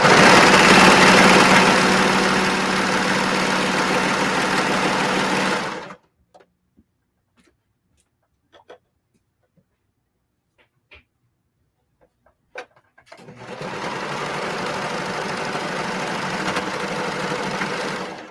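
A serger running with three threads instead of four whirs loudly and steadily for several seconds, falls silent apart from scattered small clicks, then starts up again for another sustained run close by.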